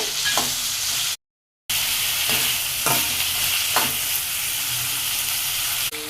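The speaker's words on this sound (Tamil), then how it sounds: "வெங்காயம் தக்காளி நல்லா வணங்கிடுச்சு" Onions, tomatoes, curry leaves and garlic sauté in oil for a brinjal kuzhambu, a steady close sizzle broken by a few soft stirring scrapes and one brief silent gap.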